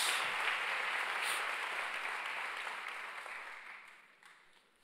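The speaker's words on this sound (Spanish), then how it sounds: "Denle ahora sí un fuerte aplauso a Jesús por esta palabra" A church congregation applauding during a Sunday morning service, a broad even roar of clapping that starts full and gradually fades away over a few seconds.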